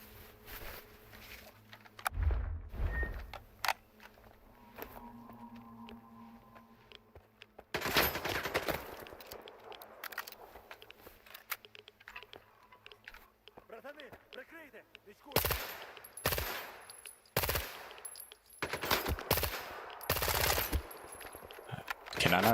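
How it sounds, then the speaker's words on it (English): Gunfire in the video game S.T.A.L.K.E.R. 2 on master difficulty: several loud bursts of shots and rapid volleys break up quieter stretches of game ambience and footsteps. "Can I not shoot through that wall?"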